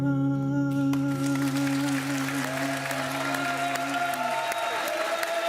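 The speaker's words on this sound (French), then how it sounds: "qu'on applaudisse très fort" A studio audience at a French television game show breaks into sustained applause, steady clapping that rises over fading music and continues loudly to the end.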